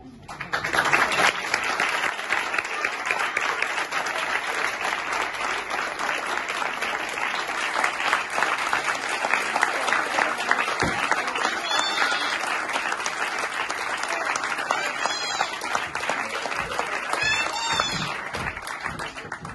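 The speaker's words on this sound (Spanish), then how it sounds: "el aplauso para ellos." Sustained applause from a gala audience, dense steady clapping filling the whole stretch, with a few faint whistles or cheers near the end.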